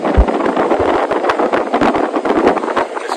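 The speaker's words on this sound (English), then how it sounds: "And the wind is just gusting." Strong wind gusting across the deck of a merchant navy ship at sea before sunrise, a loud continuous rushing roar with buffeting bursts on the microphone and no speech.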